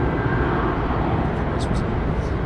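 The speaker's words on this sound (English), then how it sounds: "We'll start up Air India going out on the southern runway." An Air India airliner on the southern runway at London Heathrow Airport produces a loud, steady broadband engine roar, with voices talking over it.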